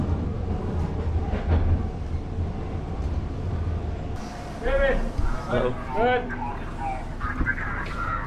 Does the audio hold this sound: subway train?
yes